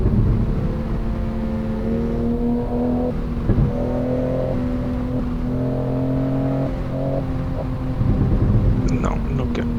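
Simulated car driving at night in the rain on Shutoku expressway in a racing video game, a loud steady engine drone with shifting pitch and a constant wash of noise; a voice murmurs faintly over it.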